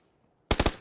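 Three rapid bursts of automatic gunfire from the battle royale game PUBG, loud and close, breaking in after half a second of near silence and trailing off briefly.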